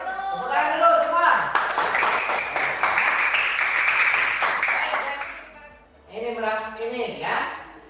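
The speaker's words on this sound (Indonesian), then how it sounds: "Tepuk tangan dulu semua" Pupils in a classroom clap their hands together in a short burst of applause, loud and close, preceded and followed by a teacher talking.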